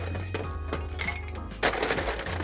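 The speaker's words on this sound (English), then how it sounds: "Fill it up with ice." Ice cubes tumble into a cocktail glass already holding rum, soda and a lime wedge, a few close clinks and rattles with a louder clatter of cubes near the end.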